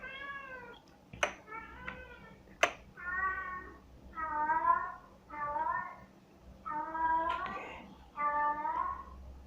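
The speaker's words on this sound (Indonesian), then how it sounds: "Maaf ya kalau ada suara kucing mengeong ya" A cat meows repeatedly, about eight drawn-out cries in an irregular sequence, with a couple of sharp clicks early on, against a quiet background.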